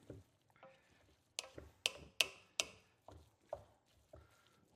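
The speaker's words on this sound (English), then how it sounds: "Toss it around. Break up that meat. Give it a nice mix in there." Ground meat for a Bolognese ragù being broken up and tossed in a pan with a utensil, a series of sharp scraping knocks and clacks at an irregular rhythm, close and fairly quiet.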